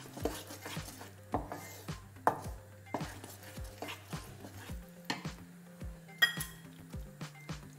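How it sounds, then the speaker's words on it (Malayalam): A spoon stirs and mashes lumps of rava kesari in a pan, making a steady run of close clinks and taps against the metal with soft scraping between them. "ഈ കട്ടകളൊക്കെ നമ്മൾ നന്നായിട്ടൊന്ന് ഉടച്ച് കൊടുക്കണം."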